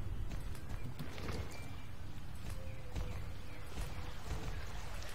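Continuous hoof clip-clop from a horse in the game Star Stable under a dense, steady background bed, with occasional soft chirps mixed in.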